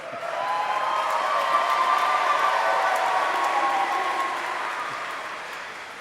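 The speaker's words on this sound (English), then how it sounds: "A rowdy crowd this afternoon" A large crowd at a university commencement ceremony applauds and cheers steadily in a big space, a dense wash of clapping that swells early and then slowly fades.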